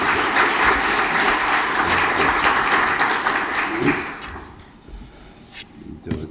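Audience applause at a Korean press anniversary ceremony, a dense sustained clapping that continues steadily for about four seconds, then thins out and fades, with a few scattered claps and a faint murmur near the end.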